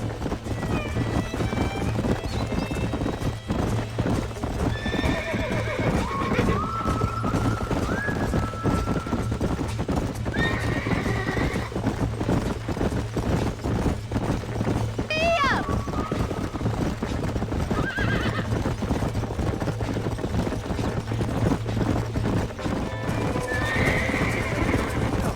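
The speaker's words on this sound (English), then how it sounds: "These are fine horses." Horses in the video game Red Dead Redemption whinny and neigh repeatedly over a steady clatter of hooves, with a constant low hum running underneath throughout.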